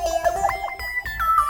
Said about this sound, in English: So this first one's more of like a Vox, kind of a pluck sound.